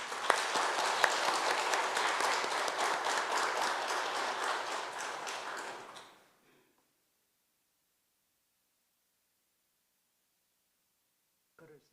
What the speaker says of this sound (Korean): 이제 우리 조국현 목사님 나오실 때 우리 박수로 환영하겠습니다